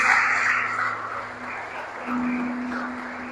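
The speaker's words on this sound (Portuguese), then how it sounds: "Aplaudo o Senhor mais uma vez." A church congregation at Igreja Brado Church claps in praise, a broad wash of applause that dips midway and swells again, heard against a steady sustained tone and no speech.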